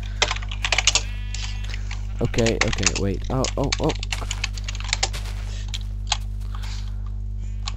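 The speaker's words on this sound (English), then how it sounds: "your keyboard clicking sound is so loud" Computer keyboard keys click in rapid irregular bursts during a Minecraft multiplayer session, close and crisp over a steady low hum, while people talk intermittently.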